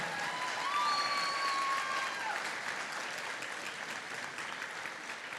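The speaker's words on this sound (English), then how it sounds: "big round of applause for everyone from the Advanced Diploma in Interior Design and" Graduation ceremony audience applauding interior design graduates, a steady, moderately distant wash of many hands clapping that swells early and then holds evenly, with a faint whistle-like tone briefly rising above it.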